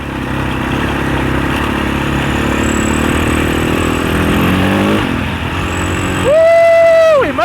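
A 650 four-stroke dirt bike on an enduro trail drones steadily at close range, its pitch shifting as it rides, then revs loudly in a sharp rise and fall near the end.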